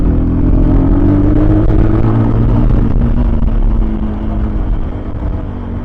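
A Voge 300 Rally motorcycle engine in third gear, held around 2000 RPM through a curve, gives a steady low drone with a gently sliding pitch and continuous road rumble, loud and close throughout.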